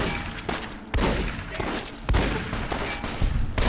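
Rapid video game gunfire crackles in dense, continuous bursts, loud and close, with a few heavier surges partway through and no talking over it.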